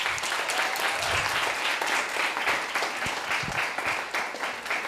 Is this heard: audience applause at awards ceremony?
yes